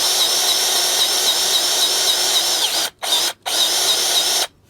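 A Craftsman V20 CMCGG001B cordless grease gun pumps grease with a steady, loud, high-pitched motor whine, cut by two brief pauses before it stops.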